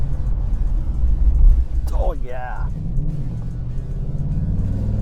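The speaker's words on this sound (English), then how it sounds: "We'll just give it a quick brake test here." A 2024 Ford Mustang Dark Horse brakes hard from speed, a steady low road and engine rumble inside the cabin easing off over several seconds, with a short exclamation from the driver partway through.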